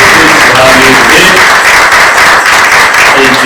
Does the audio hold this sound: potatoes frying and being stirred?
no